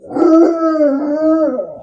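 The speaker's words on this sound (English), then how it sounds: "my husky likes to yell at people, me especially." A husky howls up close in one sustained, wavering vocal cry lasting nearly two seconds, loud and clear with strong harmonics and no talking over it.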